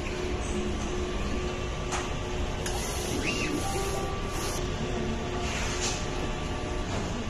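A printer runs a nozzle check after a head cleaning, giving a steady mechanical whir and rumble with a few brief clicks and whooshes over roughly seven seconds.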